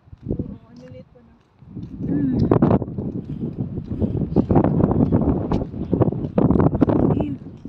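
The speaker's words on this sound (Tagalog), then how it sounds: "Hangin guys." Gusty wind rushing against the microphone outdoors in Japan, a rough, rumbling roar that swells after a quiet start and stays strong, with people talking over it.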